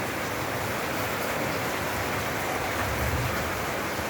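Steady rain falls outdoors, a dense even hiss with no breaks and a slight swell near the end, with no voices.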